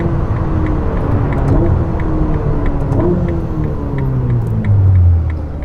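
A Ferrari SF90 supercar with a 1001 hp engine and an 8-speed dual-clutch gearbox drones loudly and steadily, its pitch climbing and stepping between gears, swelling near the end.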